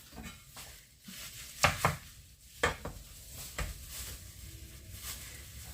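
Pork ham (about 1.25 kg) being sliced with a knife on a kitchen board for cutlets and soup, several sharp chopping knocks and cuts spaced irregularly, close and fairly quiet with handling noise between strokes.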